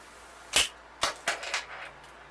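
A few sharp mechanical bursts from a Snap-on PTR72 ratchet with a socket fitted, hammering about four quick impacts in close succession, fairly faint with quiet gaps between.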